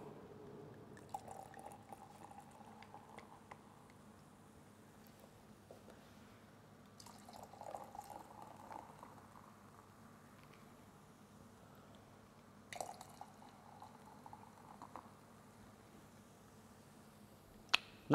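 White sparkling wine and pre-chilled sparkling water poured into a glass in a home kitchen, giving soft liquid trickles with small clinks and fizz in three short bursts over a quiet background.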